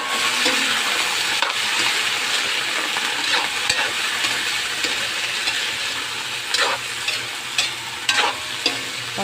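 String beans tossed into a pan with onion and stir-fried, a loud continuous sizzle with repeated spatula scrapes and clacks toward the end, close up and with no talking.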